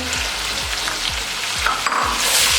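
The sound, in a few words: frying powdered spices and lemon juice for masala biryani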